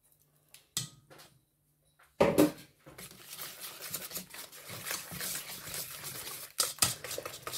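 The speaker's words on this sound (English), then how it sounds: "I'm going to actually start using a whisk for that." A whisk beats a curdled-looking milk cake mixture in a bowl, with a few isolated knocks and then irregular scraping and clinking that continues close-up to the end.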